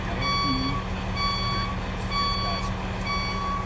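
Rosenbauer tanker pumper fire truck in reverse gear, sounding a loud, regular series of electronic reversing beeps, about five evenly spaced tones over a steady engine rumble.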